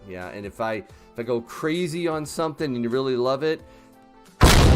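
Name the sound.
cannon sound effect played on a livestream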